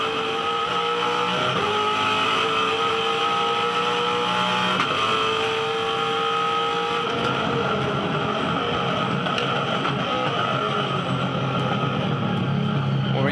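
Heard onboard a 2011 V8 Supercars race car at the Ipswich 300, the engine screams loudly through gear changes with sharp shifts and rising revs, and race commentary runs over it.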